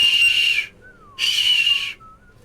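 Whistling in the video game Shadows Over Loathing: two bright sustained whistle tones, each about half a second long, separated by a short gap and followed by fainter, lower gliding tones.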